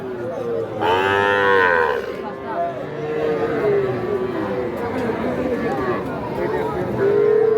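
Cattle moo loudly at the Aftabganj livestock market in Nawabganj, Dinajpur, with a long call near the start and more lowing later, over a steady din of people talking and crowd chatter.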